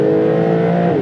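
A Porsche 911 engine drones loud and close in a steady, sustained rev for about a second, with no talk.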